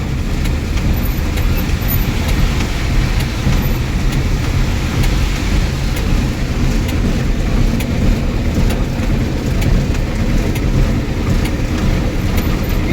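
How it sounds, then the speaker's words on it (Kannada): Rain falls steadily at a loading point, a dense, loud, even hiss with no breaks, with no voices over it. "ಮಳೆ ಬರ್ತಾನೆ ಇದೆ ನೋಡಿ"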